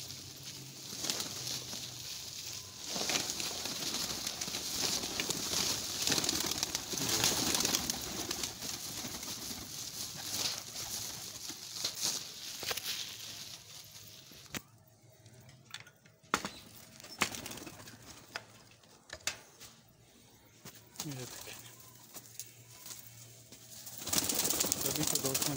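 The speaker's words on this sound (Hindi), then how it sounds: "अब हम सभी कबूतरों को छोड़ रहे हैं इसमें।" Pigeons are let go into a net, with soft cooing and bursts of wing flapping amid rustling and sharp knocks, while people talk intermittently nearby.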